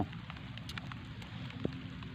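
Heavy rain pours steadily as a dense, continuous hiss of thick drops hitting surfaces, loud and close with no voices.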